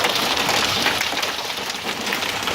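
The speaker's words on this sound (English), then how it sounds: "this hailstorm is fucking nuts" Hailstorm over Denver: a dense, steady roar of hailstones pelting surfaces outdoors, loud and continuous with no voices.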